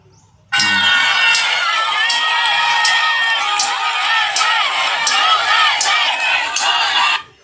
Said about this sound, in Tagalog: Sumisigaw talaga ng Duterte kasi ang tao na nag-attend, puno ng pagmamahal